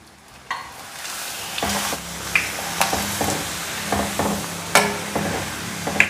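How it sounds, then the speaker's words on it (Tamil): Appalam (papad) frying in a little hot oil in a kadai: a steady close sizzle with repeated bubbling crackles and sharp pops as each piece hits the oil and puffs, with no talking. "இப்போ அப்பளம் பொறிச்சிக்கலாம்."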